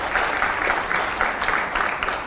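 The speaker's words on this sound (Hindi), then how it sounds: "जोरदार तालियां हुआ करें।" Steady applause from a large live audience at a televised Hindi political interview event, a dense wash of clapping that stays loud and even throughout.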